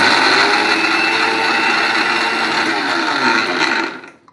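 Mixer grinder running at steady full speed, grinding dry chilli powder with niger seeds, a loud close whirring drone that holds for about four seconds and then winds down to silence.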